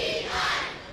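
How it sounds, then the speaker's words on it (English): A wrestling crowd roars and chants in a brief, dense burst of many voices, loud and continuous throughout. "the crowd chanting P-E-I, P-E-I"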